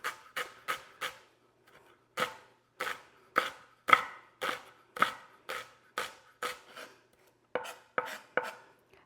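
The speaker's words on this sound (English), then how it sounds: "and then we'll just start slicing" A knife slices steadily through food on a cutting board, with crisp, evenly spaced cuts in quick runs separated by short pauses. The sound is close and clear, and no one talks.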